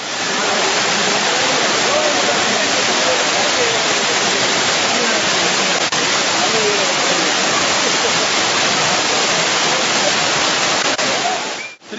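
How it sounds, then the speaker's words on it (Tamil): Heavy water roars down Suruli Falls in Theni, a loud, dense, unbroken rush of falling water close by that holds steady for the whole stretch with no pause. "இந்த அருவியில் தண்ணீர் ஆர்ப்பரித்து விழுவதால்"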